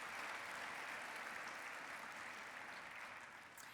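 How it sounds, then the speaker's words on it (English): A gala audience gives a round of applause, dense steady clapping from a large crowd that stays even and fades slightly at the end, no voices on top. "That deserves a round of applause."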